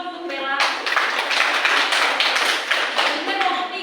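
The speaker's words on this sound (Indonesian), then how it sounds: "Tepuk tangan dulu untuk Bella" Pupils in a classroom clap for a classmate during a microteaching lesson, a dense, steady round of hand claps that starts abruptly after a brief voice and holds at an even level to the end.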